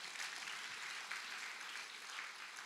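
Church congregation applauding together in a sanctuary, a steady dense wash of clapping that stays even and fairly soft across the whole moment, with no talk over it.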